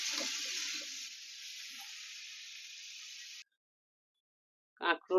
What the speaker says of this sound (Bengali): এটাকে এবার একটু ভেজে নেব।